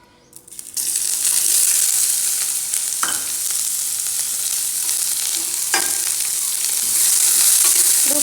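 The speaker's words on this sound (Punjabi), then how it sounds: "ਬਸ ਪੁਦੀਨੇ ਨੂੰ ਤੜਕਾ ਲੈਣ ਲੱਗੇ" Mint leaves hit hot oil for a tempering, bursting into a loud, continuous sizzle after a brief quiet start, with a few scraping stirs of a utensil against the pan.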